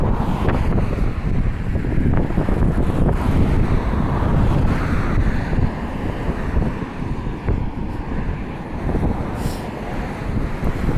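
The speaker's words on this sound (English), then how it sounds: "It's kind of windy, but it's not cold" Wind blows outdoors in a steady, loud roar of microphone buffeting beside a road on a walk near a bus terminal, continuous for the whole stretch with no talking.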